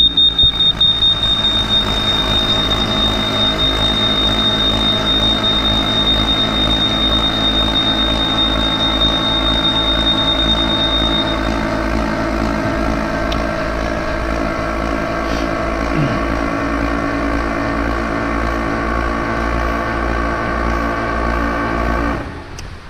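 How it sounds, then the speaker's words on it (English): Vacuum pumps on a Clad Boy CB4 panel lifter handling a Kingspan KS2000RW panel drone steadily and loudly, with a thin continuous buzzer tone over them for about the first half before it stops and the machine noise carries on alone. "you'll hear the buzzer running and the vacuum pumps"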